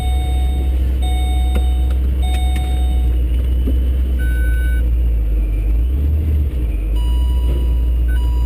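Vortech supercharged 402 cubic-inch LS2 in a VE GTS with a cast iron block, AFR heads and a T-trim supercharger, droning steadily under way with a constant low engine hum and road noise throughout.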